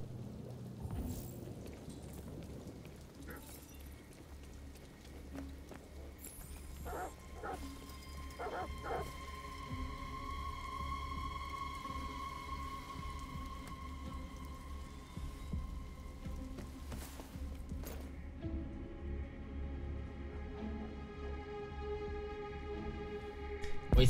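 Dogs bark in the video game Detroit: Become Human, repeated yips and woofs at a middle distance over a steady bed of rain and a low ambient hum, with scattered tonal game effects.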